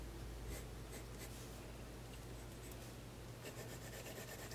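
A 4B graphite pencil sketching on paper, producing a steady, soft, close scratchy rub with short bursts of strokes throughout.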